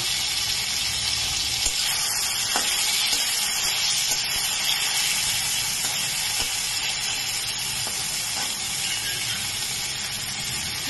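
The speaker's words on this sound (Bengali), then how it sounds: "টমেটোটাকে একটুখানি ভাজা ভাজা করে নিই, নরম হয়ে যাবে।" Tomatoes sizzle steadily in a hot pan, a constant crackling hiss with faint clicks and scrapes now and then.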